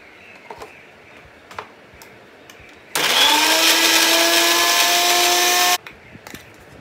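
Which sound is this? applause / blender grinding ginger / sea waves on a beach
blender grinding ginger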